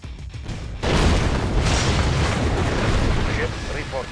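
Soviet warships open fire in the Red Alert 2 strategy game, a loud sustained rumbling barrage of booms starting abruptly after a brief lead-in and rolling on without pause, with game unit voice lines heard alongside.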